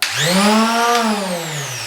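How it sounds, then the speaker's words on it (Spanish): A detail sander with 120-grit paper works drywall joint compound along plasterboard edges and corners; the motor whines up at start and holds a steady high buzz throughout, close and loud, with no talking. "voy a empezar lijando esta pasta"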